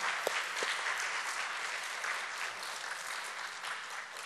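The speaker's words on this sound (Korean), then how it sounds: "한번 하나님께 감사의 박수 한번 드리도록 하겠습니다" Steady applause from a congregation of students at a Thursday school chapel service fills the room, dense and even throughout with no speech on top.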